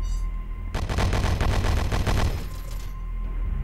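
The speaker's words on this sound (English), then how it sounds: "Don't even advance, just shoot him from that position." Rapid bursts of gunfire from the Horus Heresy: Betrayal at Calth video game ring out loud and close, a dense rattling volley that lasts about two seconds before tailing off into a lingering hum.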